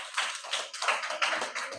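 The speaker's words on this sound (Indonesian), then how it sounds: "kasih tepuk tangan untuk Aira" Quick, light applause for a child, a short burst of claps close by with no voices over it.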